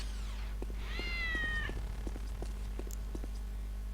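A cat meows twice in the video game Postal 2. The first cry is soft and the second is a clear, drawn-out, higher meow, followed by light rhythmic taps over a steady low hum.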